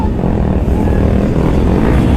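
A loud, continuous engine rumble, consistent with a motorcycle being ridden hard with the throttle held open, runs close and unbroken throughout.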